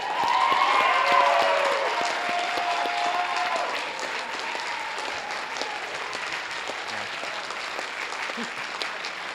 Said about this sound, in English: can we get a round of applause for our MC, Ethan Meyer?